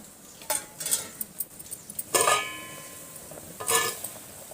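A spoon scrapes and clinks against a clay pot while tomato methi chicken curry is stirred, making a few close, quiet bursts of scraping and clattering with a soft sizzle underneath.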